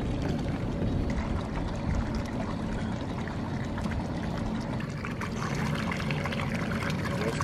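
Bait fish and water poured into a boat's homemade live bait well, a steady broadband splashing and gushing that runs continuously at close range with no talk over it.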